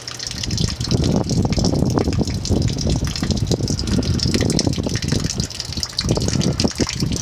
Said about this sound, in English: Filled up the freshwater tank,